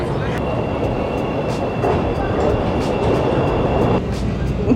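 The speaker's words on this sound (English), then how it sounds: "So we on what we think is the Green Line train." Steady rumble of a Chicago Green Line train in motion, with continuous rail noise and a faint high whine throughout, close and fairly loud.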